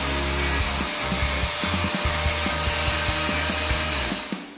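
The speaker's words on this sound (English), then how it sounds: "Made a lot of good progress with the angle grinder there" An angle grinder grinds a meteorite knife steel blank, a loud, steady, close-up whine with rough, irregular catches. It runs continuously for several seconds before spinning down at the end.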